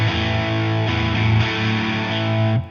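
An electric guitar played through an OPFXS Twin Boost pedal with the boost engaged, a loud sustained distorted chord ringing for a few seconds before it is cut off.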